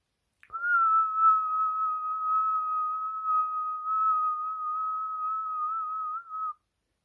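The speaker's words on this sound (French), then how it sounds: "Quand tu siffles, regarde." One person whistles a single long, steady, pure note for about six seconds, close and clear against silence.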